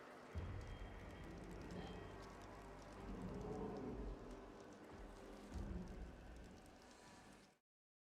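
Steady rain falling in the video game Ignite the Blight, a continuous broadband hiss with low rumble that swells slightly in places, heard alone with no talk before cutting off abruptly.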